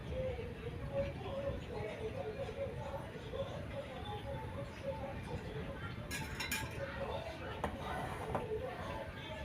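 Tea stirred with a long-handled ladle in a pot, the winter brew made with dry ginger and jaggery; steady scraping clinks and soft metal taps sound close by over a continuous bubbling, simmering bed.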